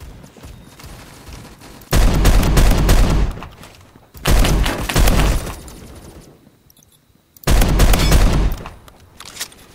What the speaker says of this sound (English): I'm just gonna use variety of guns to compare the condition of my whole monitor.